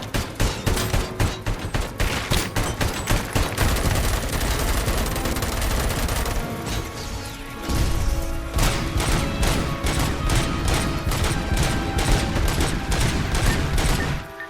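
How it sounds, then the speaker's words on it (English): Heavy weapon fire from a missile launcher in the video game Robocop: Rogue City, loud, dense rapid bursts and booms running almost continuously, with a short lull in the middle before firing resumes. "That's a missile launcher."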